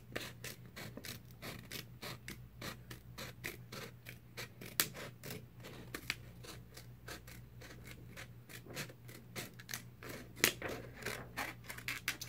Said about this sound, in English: I just cut a strip of paper.